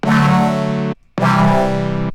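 Minimal Audio Current 2.0 synth bass sounding as a polyphonic chord, two sustained, buzzy, distorted held stabs of about a second each separated by a short gap, loud and dense with no voices.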